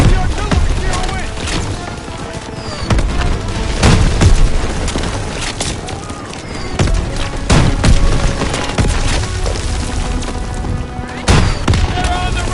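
Booming artillery fire and scattered gunfire in a Call of Duty war battle, heavy blasts recurring every couple of seconds over a dense, continuous din of combat, with shouting voices mixed in.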